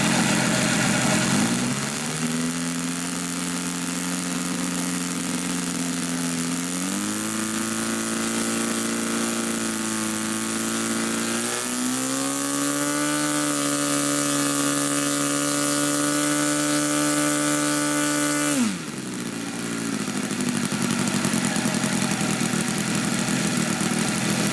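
A 1/4 scale Corvin Miller Globe Swift model aircraft engine runs, puffing smoke evenly from both exhaust stacks. Its steady, fairly quiet idling drone steps up in pitch a few times, then dips sharply before settling again. No voices are heard.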